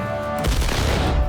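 Cannon fire from a battle scene in the film Gangs of New York: a loud, sudden boom after a short lull, followed by a sustained rumbling barrage with scattered blasts.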